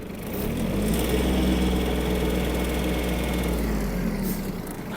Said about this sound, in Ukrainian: Фреза поводить себе гарно, стабільно. Можемо навіть додати обертів.